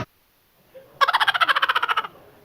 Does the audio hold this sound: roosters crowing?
yes